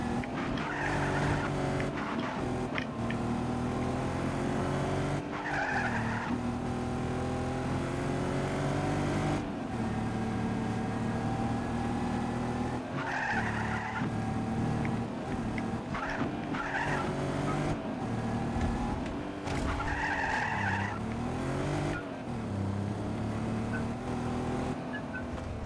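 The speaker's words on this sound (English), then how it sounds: "Time to drift a long way." Car drifting in the Just Cause 3 video game: tires skid and squeal steadily over a loud, revving engine for about twenty-five seconds, with the pitch rising and falling through repeated slides and gear changes.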